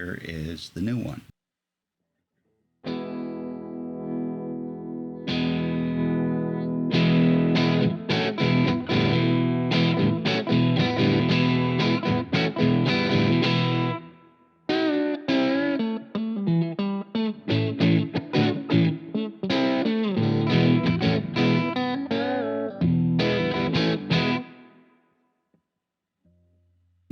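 An electric guitar is heard through the newer Voxengo Boogex version 3 amp simulator, with a tight, lightly driven tone. Loud chord strums and riffs play in two long phrases split by a short gap, then stop abruptly.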